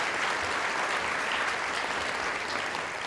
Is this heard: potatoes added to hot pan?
no